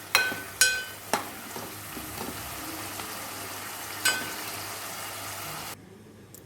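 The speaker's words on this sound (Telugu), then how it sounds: "బాగా వేయించుకుందాము." Chicken pieces fry with curry leaves in a pan, giving a steady close sizzle with a few sharp metallic clinks and scrapes from stirring before it cuts off.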